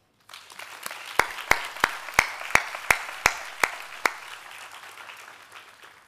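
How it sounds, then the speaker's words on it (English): Graduation audience applauding teachers at a Bangkok school ceremony. Soft, steady crowd clapping runs throughout, with one loud nearby clapper striking about ten sharp, evenly spaced claps before the sound thins out. "Please may we applaud the teachers."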